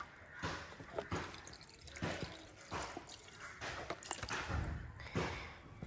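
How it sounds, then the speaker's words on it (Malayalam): Milk being poured into a blender with mango for a smoothie, a soft close trickle with small splashes and drips, quiet and somewhat uneven. "ഇനി നമുക്ക് മിൽക്ക് ഒഴിച്ചു കൊടുക്കാം"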